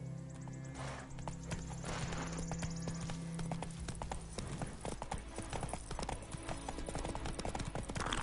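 Horse hooves gallop in the video game The Witcher 3, with steady, rapid clip-clop beats close by under game music and ambience, and a faint whinny also present.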